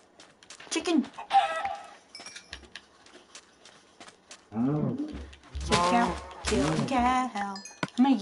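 Chickens cluck and squawk in Minecraft, short pitched bursts scattered across the span with a louder run of clucks in the second half, alongside game sound effects and a voice talking.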